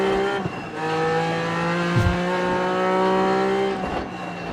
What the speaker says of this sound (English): I wanted to avoid the co-driver, so you just have the engine sound